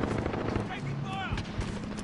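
Gunfire in the video game Call of Duty Warzone, rapid bursts of shots with crackling impacts, mixed with a player's voice talking over the game.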